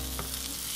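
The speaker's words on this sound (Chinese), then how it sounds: "像这种吱吱的油煎的声音呢，" A burger patty for a blue cheese burger frying in hot oil gives a brief, steady sizzle up close, with no voices.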